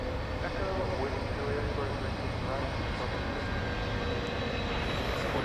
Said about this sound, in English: Flight 761 to Ontario, California, another 767 freighter.